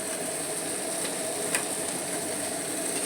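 Tomato added to potatoes and peas frying in a pan sizzles with a steady, close hiss, a few brief clinks of the utensil rising above it.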